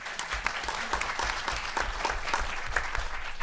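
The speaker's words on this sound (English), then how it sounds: "A round of applause to your borough president." Steady, dense applause from an audience at a tax reform teach-in, greeting the borough president with many hands clapping at once, sustained and fairly loud throughout.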